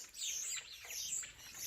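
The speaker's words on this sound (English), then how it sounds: "There's all kinds of birds up here." Many birds chirp and twitter together in backyard trees in the evening, a dense, faint chorus of high tweets going on throughout with no voices.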